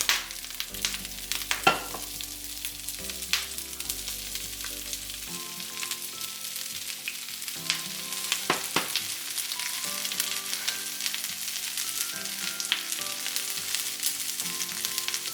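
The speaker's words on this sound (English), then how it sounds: "We're adding some olive oil. Stir it around. First thing we're going to add is the cabbage." Cabbage fries in olive oil in a pan for pork egg rolls, a continuous crackling sizzle with scraping stirs and clatters throughout, fairly quiet and with no voices.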